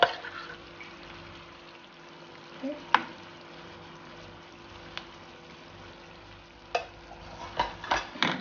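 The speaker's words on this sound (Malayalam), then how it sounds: "നമുക്ക് ഇങ്ങനെ എല്ലാം ചെമ്മീനും ഇട്ട് ഫ്രൈ ചെയ്യാം" Prawns frying in a pan for a chilli prawn fry, a quiet steady sizzle with a few sharp clicks and scrapes of stirring toward the end, no talking.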